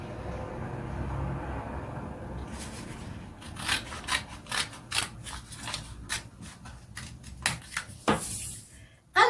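Scissors cutting a fabric pattern piece in a sewing class, starting with a soft rub and then a run of crisp, separate snips close by, finishing in a louder rustle.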